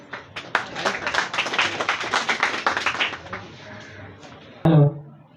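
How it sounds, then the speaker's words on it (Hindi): Audience clapping at a Teachers' Day event at a coaching institute, with an uneven burst of hands clapping close by for a few seconds, then fading, followed by a short loud thump near the end. "जोरदार तालियां हो जाए इन दोनों के लिए।"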